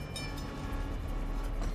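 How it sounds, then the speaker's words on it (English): A train in the Army of Two video game rumbles steadily, with a continuous low rolling roar and faint clanking, and nobody talking. "Ooh, you're on a train."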